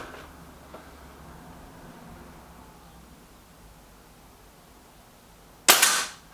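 A single sharp crack of an Artemis M11 air rifle fired in a shooting competition, loud and close, ending a quiet stretch.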